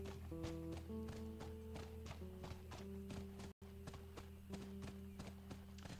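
Rhythmic clip-clop of horse hooves at a steady trotting pace over a low musical drone in the video game The Last of Us, with a brief dropout partway through.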